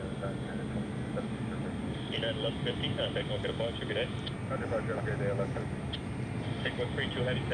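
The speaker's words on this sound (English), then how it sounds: "Even take longer of a takeoff roll than the 777 earlier." An airliner on its takeoff roll at SFO roars steadily in the distance, a broad low engine rumble, while people talk over it throughout.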